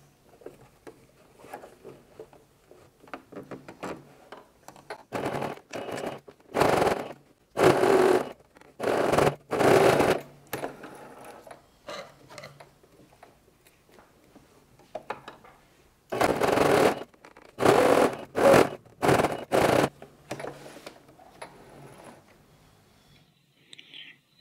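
Sewing machine stitching a seam on a two-tone 3D fabric face mask, several bursts of running stitches of a few seconds each separated by quiet pauses, close and clear.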